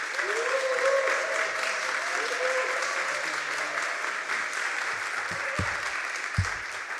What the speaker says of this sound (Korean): 이 시간 목사님 모실 때 우리 다 같이 박수로서 환영하며 모시도록 하겠습니다.